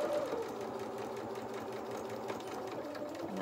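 A sewing machine runs steadily, stitching the seam of a small doll's sailor dress bodice, a close continuous whirring hum that holds for a few seconds with one brief pause partway through.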